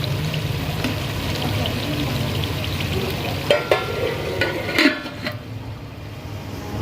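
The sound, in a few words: okra (bhindi) cooking in a pan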